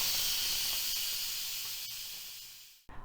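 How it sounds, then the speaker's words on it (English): Steam hisses out of an Instant Pot pressure cooker during a manual pressure release, a loud, steady, close rush that fades slightly and then cuts off abruptly near the end. "I'm gonna push my button, push my finger on this button and release any remaining pressure."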